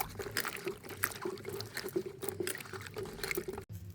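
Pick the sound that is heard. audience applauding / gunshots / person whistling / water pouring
water pouring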